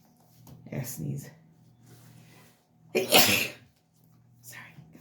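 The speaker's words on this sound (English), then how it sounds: "I sneeze" A single sharp sneeze bursts out close by indoors during a private reading, loud and brief, with quieter talking before and after it.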